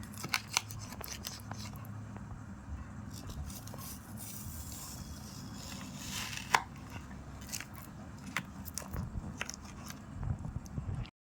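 A frozen mango-stuffed kulfi being cut with a blade, giving a run of short, crisp crunching snips and scrapes at close range, irregularly spaced over steady low background noise with no talk.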